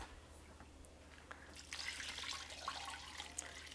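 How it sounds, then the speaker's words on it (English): Filtered water pours into a crock pot for bone broth, a faint, steady trickle that swells into a fuller splashing stream partway through, quiet and with no voices. "So we're going to go ahead and add 4 cups of water at a time. I like to use filtered water."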